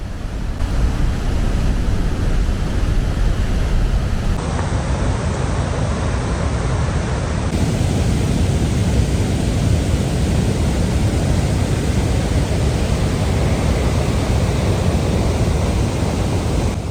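Victoria Falls in Zambia roars as a massive waterfall, a dense, steady broadband rush of plunging water that stays loud and unbroken throughout with no voices.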